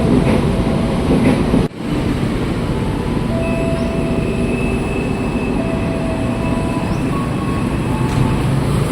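An Indonesian KRL commuter train, a new INKA-built CLI 225 unit, pulls into Universitas Indonesia station with a loud, close, continuous rolling rumble. Sustained motor tones drift over it, broken by one sharp knock early on.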